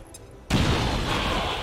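A grenade goes off in XCOM 2 with a sudden loud boom after a brief quiet lead-in, followed by a long rumbling, crackling tail of debris.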